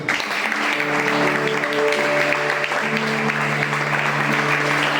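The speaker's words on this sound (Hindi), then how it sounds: "एक अच्छी ताली हो जाए प्रभु को धन्यवाद दीजिए" Sustained applause from an audience at a church youth conference, loud and steady throughout, with faint tonal music held underneath.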